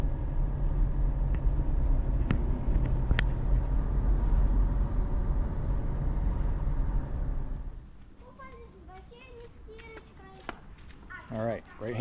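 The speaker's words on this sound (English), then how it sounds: "I'm stuck in rush hour traffic" Rush hour traffic in Kyiv rumbles as a steady low drone of engines from inside a right-hand-drive stick-shift truck, fading later as voices talk nearby over the quieter hum.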